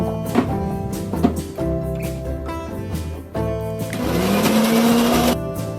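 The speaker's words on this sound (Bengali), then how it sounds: "একটু জল দিয়ে সবগুলোকে একসাথেই আমি পেস্ট করে নেব।" A mixer grinder blends ginger, tomato and cashews with a little water into a paste, its motor whirring loudly in bursts with a rising pitch as it spins up, then running steadily for a couple of seconds.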